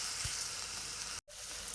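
Chili and turmeric powder frying in a pan give a steady, close sizzle with a faint stir, cut off by a brief dropout near the end.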